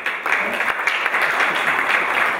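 An audience at a press conference for a Sufi culture festival in Fès applauds a guest: continuous, even clapping from many hands for a couple of seconds, fairly loud and without speech.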